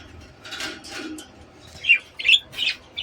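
A lovebird hen gives three short, shrill squawks close by, following some softer rustling and chattering.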